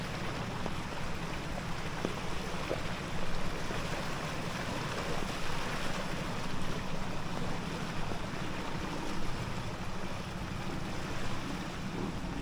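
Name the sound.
strong rushing floodwater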